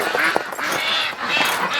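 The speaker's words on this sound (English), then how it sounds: "I think there's a whole bunch of ducks in the barn" A crowd of wintering ducks quacking and honking inside a barn on a cold day, dense overlapping calls filling the space continuously, loud and close.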